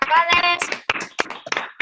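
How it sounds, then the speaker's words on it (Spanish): Audience applause at an evening talk, a burst of hand clapping with scattered sharp claps, mixed with a voice speaking over it, close and fairly loud. "Un aplauso, por favor"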